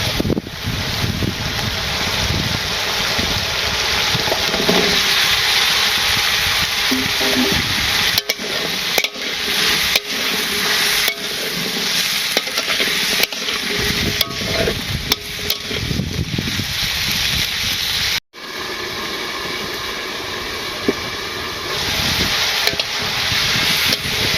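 Vegetables sautéing in spiced masala in a pan for a village-style koi fish curry; a steady, loud sizzle and scraping stir runs throughout, with short gaps where the stirring pauses.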